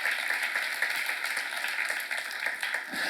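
Congregation applauding at a Korean church seminar: steady, dense clapping from many hands throughout, fairly loud and continuous with no talk over it.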